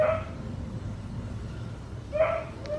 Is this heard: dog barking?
yes